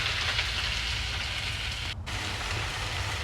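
Pumpkin shoots hit a hot pan with dalle chilli and garlic, giving a dense, even sizzle that holds steady throughout, with a brief dip near the middle.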